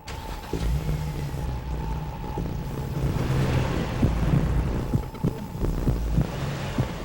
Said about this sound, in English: Introducing the 260 horsepower adrenaline pump. The new G35 from Infiniti.